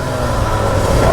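A Derbi or Sherco dirt bike with a loose, rubbing exhaust pipe runs in winter cold, its engine droning loud and steady with a slight rising pitch throughout the short burst.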